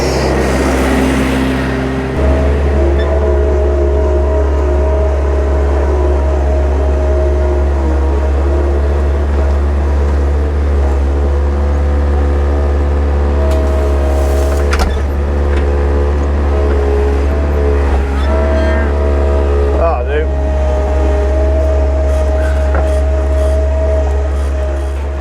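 A skid steer loader's engine runs with a loud, steady low rumble throughout, its pitch shifting slightly as it revs at times, on a farm.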